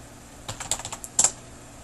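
A short run of keystrokes on a computer keyboard enters a command in DraftSight CAD software, a dozen or so quiet, quick clicks ending with a slightly louder key press.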